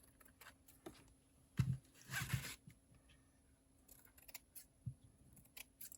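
Scissors trim paper for a seed packet craft project, with a few quiet snips and a short cluster of cutting sounds close by in an otherwise quiet room.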